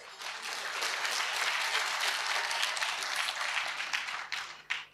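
Sustained audience applause in a church gathering in Tanzania, dense steady clapping from a crowd that carries for several seconds before tapering off near the end.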